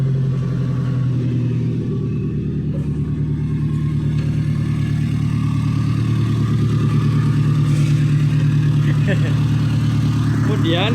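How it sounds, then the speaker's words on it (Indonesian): A car engine idles steadily during a vehicle inspection, with a low, continuous rumble throughout, close by and unchanging in pitch. "Kita sudah hidupkan mesin."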